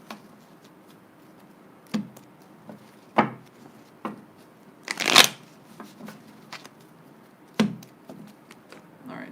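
Tarot cards are shuffled in a handful of separate bursts, each a quick papery riffle or snap, with one longer, louder flurry near the middle and quiet pauses between them.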